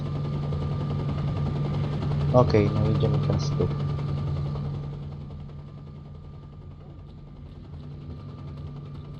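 A helicopter flies overhead in the game S.T.A.L.K.E.R.: Shadow of Chernobyl, a steady droning rotor hum that gradually fades into the distance, with someone briefly talking over it early on.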